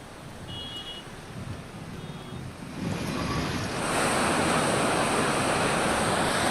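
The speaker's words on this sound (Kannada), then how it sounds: "ಹದಿನಾಲ್ಕು ಗೇಟ್ಗಳ ಮುಖಾಂತರ ನೀರು ಬಿಡುಗಡೆಯಾಗಿದೆ." A steady, heavy roar of water released through fourteen gates of the Gajanur dam into the Tunga river fills the clip, swelling louder about halfway through and staying broad and constant, with wind buffeting the microphone.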